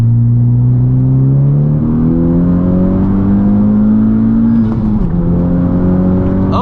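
A Honda Civic Type R with a stage 3 flex fuel tune running E17 accelerates hard, its engine loud and close, rising steadily in pitch through the gear before a brief dip and a renewed climb.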